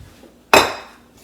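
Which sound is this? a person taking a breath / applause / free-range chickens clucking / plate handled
plate handled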